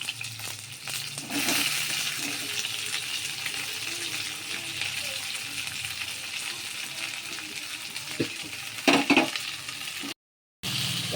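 Onions, tomatoes and green chillies frying in a pan for Tamil fish curry, a continuous sizzle that swells after a quiet start, with a few clinks of a utensil near the end and a brief dropout to silence.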